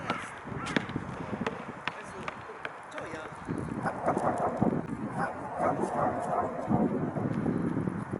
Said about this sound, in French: Non mais il est fou ce chien